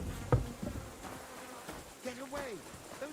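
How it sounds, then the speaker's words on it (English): Bees buzz around hives in a medieval role-playing game, a close, wavering drone with swooping pitch as insects fly past, while a voice speaks briefly. "Clear off. Those are my bees."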